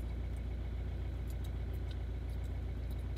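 A Volvo C30 D2 1.6 diesel engine runs with the revs held slightly up after a fuel filter change, a steady low hum with a regular throb, close by and alone, with faint ticking above it.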